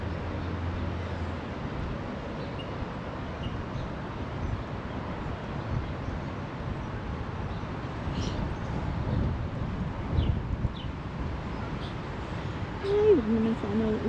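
Strong wind blows through a park, a steady broadband rush that swells and gusts toward the end, with faint bird chirps high above and a low rumble underneath.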